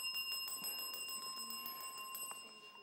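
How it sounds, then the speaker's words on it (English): A bell rings out to close a televised junior schools quiz match, a sustained bright tone with steady overtones holding for a few seconds over a quiet studio background, with no talk. "that bell signifies the end of the match"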